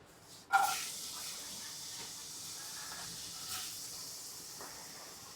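Chopped onion dropped into hot oil in a pan, a sudden sharp sizzle that settles into a steady frying hiss, fairly faint, with a brief flare of crackle midway.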